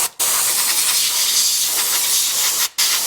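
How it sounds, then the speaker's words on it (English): An air compressor's blow nozzle blasting compressed air near a classic Range Rover V8 during a fuel pump replacement: a loud, close, continuous hiss that cuts off briefly near the start and again near the end. "I've got now my trusty air compressor"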